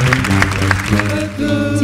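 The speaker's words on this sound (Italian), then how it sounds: "Signori, un applauso ai miei bassi!" An audience applauds for the bass singers of a pop choir. Dense, loud clapping rides over a continuing musical backing track.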